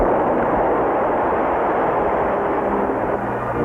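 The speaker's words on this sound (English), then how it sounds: "didn't wake up until that first atomic explosion" A cartoon atomic explosion effect: a loud, sustained blast roar that fills the whole clip without break and fades slightly at the end, with no voices.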